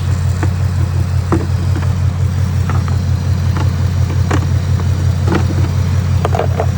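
A 2024 Ford Mustang with a new air intake cruises on the road. A loud, steady engine and road drone is heard from inside the car, with a few light clicks and knocks on top and no talk.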